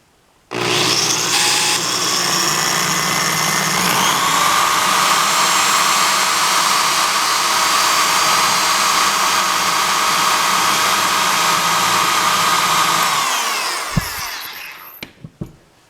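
A power drill with worn, dull bits whines steadily and loudly for about twelve seconds, grinding through a metal Sten magazine, then winds down, followed by a few sharp metallic clicks.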